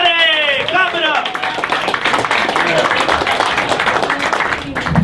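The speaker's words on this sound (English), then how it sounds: "Clap it up!" A comedy club crowd at The Stand claps and cheers loudly and continuously as a comedian is introduced, a dense wash of applause with the host's voice calling out over it at the start.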